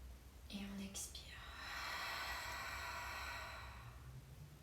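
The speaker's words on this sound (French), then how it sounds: "On expire, on relâche par la bouche." Slow exhale through the mouth during a calm yoga breathing exercise, a soft airy breath out lasting a few seconds, close and quiet, after a brief faint inhale.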